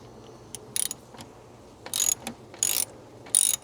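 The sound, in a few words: ratchet undoing car battery cable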